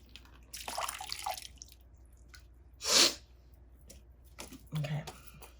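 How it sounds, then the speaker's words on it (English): Water is poured from one cup into another and spills, making brief splashing and dribbling bursts. A sharp louder splash comes midway, with a few faint drips around it. "If it spills, it's just water, and it's spilling."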